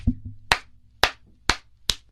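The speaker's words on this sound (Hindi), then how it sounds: "ताली बजाते हो।" Five sharp hand claps ring out close and crisp at a quick, slightly uneven pace, like someone swatting at a mosquito, with no talk over them.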